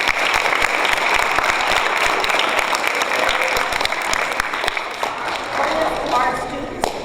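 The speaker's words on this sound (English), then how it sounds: "Let's give a round of applause." An audience in a middle school hall gives a loud, sustained round of dense applause, with some thumps and a voice speaking over the clapping.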